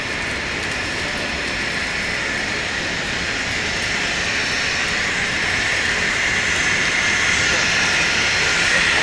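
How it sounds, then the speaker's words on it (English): A small jet taxiing past on a rainy morning at Dallas Love Field, its engine a steady broadband roar and whine that holds evenly for the whole stretch and swells slightly toward the end as it draws near. "We have another little jet coming at us here."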